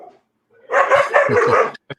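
Several dogs barking excitedly in quick overlapping yips and barks, loud and close, in a dense burst of under two seconds with a short final yip.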